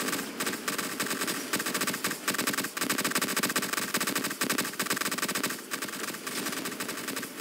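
Continuous rapid-fire shooting in the Roblox game Toilet Tower Defense, a loud, dense machine-gun stream with regular pulsing bursts sustained throughout, no talking.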